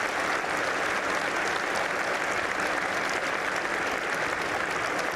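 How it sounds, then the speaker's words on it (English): A large audience at a military college speech gives a sustained round of applause for the faculty, dense steady clapping that fills the space evenly from start to finish. "why don't we give them a round of applause?"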